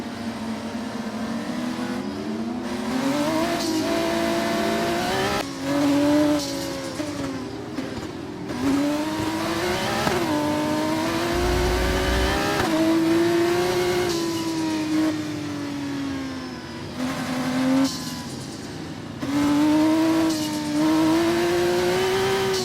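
An F2 race car engine in the F1 24 video game at a full race start, loud and continuous, rising and falling through repeated revving surges and gear changes over about twenty seconds, with no one talking.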